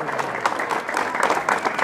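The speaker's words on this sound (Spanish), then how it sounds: "Bueno, pues un aplauso." Audience applause during an award presentation at a community event, a steady dense clapping that fills the whole moment at moderate loudness, with voices mixed in.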